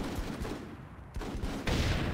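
Dense gunfire from the Full Spectrum Warrior video game, a steady loud fusillade of overlapping shots and bursts with no break, rising in intensity near the end.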